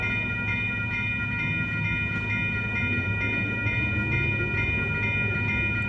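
Amtrak Coast Starlight passenger train led by a Siemens ALC-42 Charger locomotive passing a crossing at 98th Avenue in Oakland, a continuous loud rumble with rhythmic wheel clatter and steady tonal whine close by.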